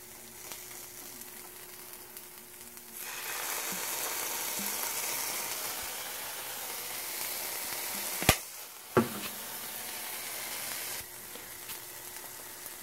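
Food sizzles in a pan as lime juice is added during cooking of meatless turmeric rice: a steady close frying hiss that swells when the liquid goes in, with a couple of sharp utensil clanks against the pan.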